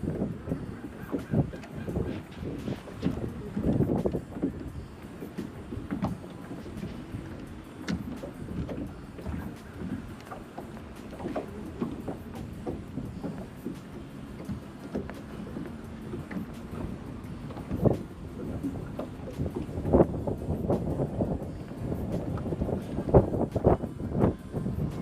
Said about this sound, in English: it's gonna be a little windy today